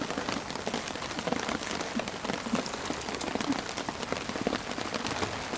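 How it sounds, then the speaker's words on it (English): Steady heavy rain drums on a surface, a dense continuous patter of drops with no voices. "I'll title the video Camping in the Heavy Rain"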